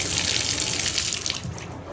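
Water runs steadily from a Delta faucet just repaired with a new cartridge, a continuous close splashing hiss into the sink with no voices.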